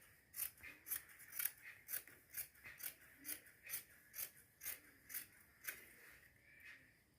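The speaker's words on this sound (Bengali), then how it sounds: "এখন আমরা কাপড়টা কেটে নিই" Scissors snip through cloth in a steady run of about fifteen crisp, close cuts, evenly spaced, each a short sharp metallic chop with no voices.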